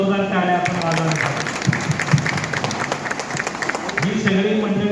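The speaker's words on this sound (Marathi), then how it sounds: "त्यांच्यासाठी एकदा जोरदार टाळ्या आपण वाजवायला." An audience at a cooperative society gathering claps for the bank's branch manager, clerks and cashiers. Dense, fairly loud applause fills the middle of the moment, with a voice speaking over it at the start and again at the end.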